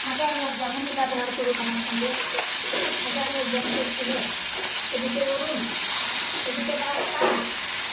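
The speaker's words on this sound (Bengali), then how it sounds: "চলুন তাহলে এদিকে মাছটাও ভাজছি" Fish sizzles steadily as it fries in a pan, and a voice talks intermittently over the cooking noise.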